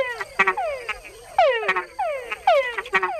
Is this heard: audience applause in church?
no